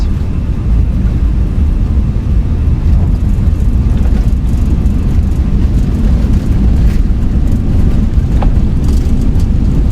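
Airbus A320 jet engines spooling at takeoff thrust in Microsoft Flight Simulator 2024, a loud, steady roar with a deep rumble running unbroken throughout.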